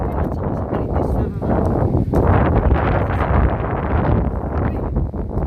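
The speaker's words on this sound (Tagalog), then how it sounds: "Uy, sobrang mahangin ngayon." Strong gusting winter wind buffets the microphone in a continuous loud roar, with a voice partly audible beneath the blustering.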